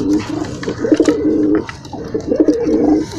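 Pigeons coo in low, throaty rolling phrases, two clear bursts close by with a soft murmur of background noise between them.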